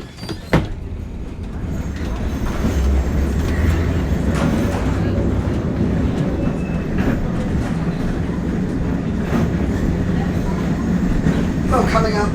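The Auckland Dockline Tram runs along its route, a loud, steady rolling rumble with faint rattles and creaks heard from inside the car, while people talk over it.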